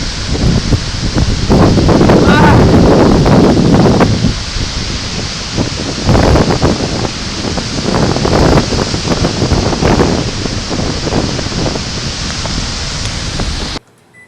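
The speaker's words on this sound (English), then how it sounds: "Oh my gosh, it's windy." Strong outdoor wind buffets and roars across the microphone in heavy gusts, loud and continuous, with no voices, before cutting off abruptly at the end.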